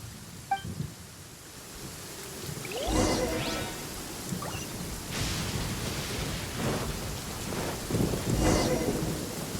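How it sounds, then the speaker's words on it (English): Lightning storm in the Genshin Impact video game: steady heavy rain with rolling thunder cracks and rumbles that swell and fade over several seconds, loud and close. "Uh-oh! Lightning storm!"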